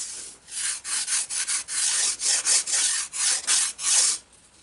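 Sandpaper rubs against the edges of balsa wood aileron parts for a powered glider, about a dozen short, rhythmic scraping strokes in quick succession, close and clear, ending in quiet with no talking.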